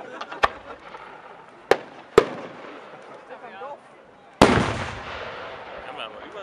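A Klasek 150mm Color Chrysanthemum firework shell at a pyrotechnics show: several sharp, loud bangs ring out in the open, then a heavy burst trails off into a crackling rumble, with people's voices faintly present.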